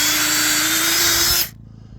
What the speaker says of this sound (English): And back out. And back in. Reverse forward. So that that wood bit clears the sawdust.